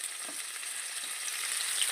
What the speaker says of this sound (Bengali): আলু কুমড়োগুলো একটু সুন্দর করে দিয়ে আমি একটু ভাজা ভাজা করবো